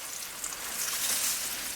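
Water poured at the base of cowpea plants in a garden makes a steady, soft hiss and patter, close and continuous, with no talking.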